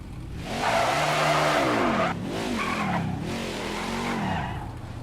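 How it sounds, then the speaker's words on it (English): A NASCAR race car in NASCAR 21: Ignition spins out on the Michigan oval: loud, sustained tire squeal and skidding with sweeping engine pitch over about five seconds, no talk. "There I'm going to spin the car around."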